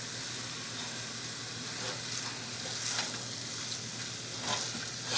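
Enchilada sauce thickened with seasonings sizzles steadily in a pan while a utensil stirs and scrapes at bits sticking to the bottom, giving intermittent soft scraping strokes over the continuous frying hiss, no talking.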